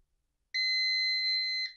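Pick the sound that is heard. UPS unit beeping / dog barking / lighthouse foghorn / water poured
UPS unit beeping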